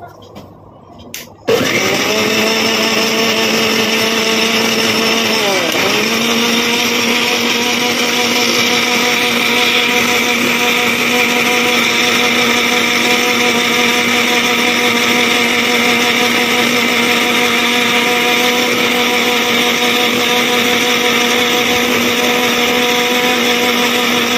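A mixer grinder blends soaked almonds with a lid on, starting abruptly after a brief pause and then running loud and steady with a high whine, its pitch dipping briefly early on before holding constant.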